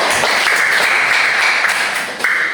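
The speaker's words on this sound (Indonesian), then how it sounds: "Sekali lagi beri tepuk tangan." A classroom audience gives a short burst of steady applause for a student group that has just finished presenting, with dense clapping throughout.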